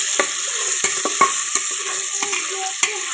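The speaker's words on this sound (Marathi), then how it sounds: "हलवून घेते बरं का" Goat tripe frying in oil in a pan is stirred with a utensil, producing a steady close sizzle broken by several sharp scraping and clinking strokes against the pan, with no voices.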